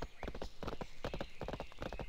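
Horse hooves of a patrol in the game World of Warcraft clop in a steady, continuous rhythm of close, distinct hits over faint background ambience.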